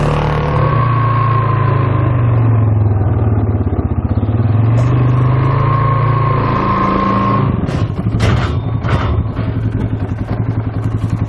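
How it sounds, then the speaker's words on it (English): An ATV/UTV engine idles and revs loudly up close as it is driven up Mad-Ramps pivoting loading ramps, steady and rumbling, then a burst of clattering knocks near the end as it climbs and settles. "I'm gonna go ahead and actually drive around and load up real quick"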